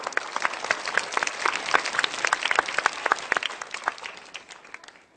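Audience applause for the judging committee on a Thai children's talent show, a dense burst of many hands clapping at once that runs steadily for several seconds before tapering off at the end.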